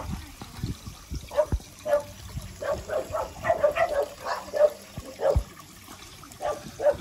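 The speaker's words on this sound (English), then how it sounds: "There's a dog fight going on." Several dogs bark and snarl in a scuffle near an outdoor seating area at Eye Kettleby Lakes, giving a run of sharp, repeated yelps and barks at moderate distance over a faint trickle of water and outdoor background noise.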